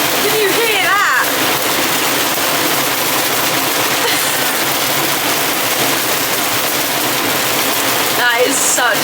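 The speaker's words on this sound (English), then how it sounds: "That is such bad rain." Heavy rain pours down at a muddy horse show, a loud, steady hiss drumming on surfaces throughout, with a few brief voices breaking in at the start and the end.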